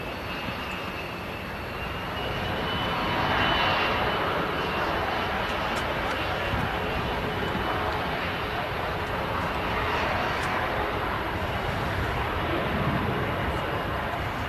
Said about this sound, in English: And just arriving is AirX charter aircraft from Southampton. It's an Embraer Legacy 650.